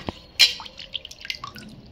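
Pointed gourd being washed in water by hand in a kitchen gives scattered drips, small splashes and light squishes at close range, irregular and fairly quiet, with no speech.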